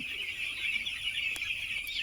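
Broiler chickens on a poultry farm with about 4000 birds, a dense, steady flock chorus of clucking and chirping with no talk over it.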